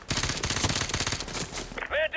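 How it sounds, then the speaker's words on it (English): Rapid full-auto gunfire rattles continuously in the Modern Warfare 2 campaign, loud and sustained, with game voices and effects cutting in near the end. "Engaging full auto."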